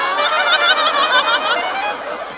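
A goose-like bird honks in a rapid series of loud, nasal, rhythmic calls close by, tapering off into a fainter trailing call.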